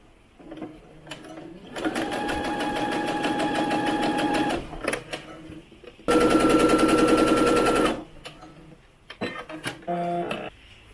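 A sewing machine stitches the side seams of a doll's top for an American Girl doll in two close, continuous runs of rapid whirring, with quieter handling clicks between and after.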